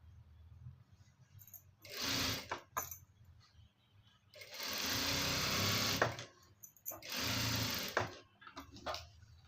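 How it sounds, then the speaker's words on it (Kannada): Sewing machine stitching fabric in short bursts, with three loud runs of rapid whirring separated by quiet pauses and small clicks as the cloth is adjusted, close by and without speech. "ಈ ಕಡೆ ನೀಟಾಗಿ ನಿಧಾನ ಟರ್ನ್ ಮಾಡಿಕೊಂಡು ಸ್ಟಿಚ್ಚು ಫಿನಿಶ್ ಮಾಡಬೇಕು"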